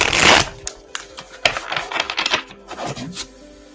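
Tarot cards riffled and shuffled by hand, a burst of dense papery flutter followed by several shorter riffles and taps, close and fairly loud with no talking.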